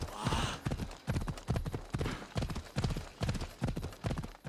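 Horse hooves clip-clop in a steady, rhythmic gait in Assassin's Creed Odyssey, loud and close with a brief whinny-like burst at the start, on a road trip from Athens to Sparta.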